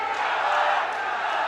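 A large crowd at an outdoor political election rally in Kota, Rajasthan roars and cheers in a dense, continuous wash of voices, loud and steady with no gaps.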